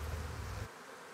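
Honeybees from beehives kept at an airport hum in a dense, steady buzz up close, cutting off abruptly partway through to faint background.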